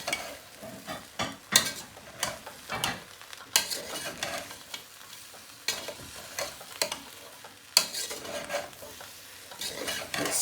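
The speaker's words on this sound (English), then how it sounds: "Now that's the mutton ribs. Give this a nice little mix." Mutton ribs are mixed in a pot for a pulao, with frequent scraping and clattering stirs over a low sizzle in irregular bursts, moderately close and with no voices.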